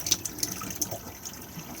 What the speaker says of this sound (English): begin opening the taps. They'll cough and splutter as they force the air out.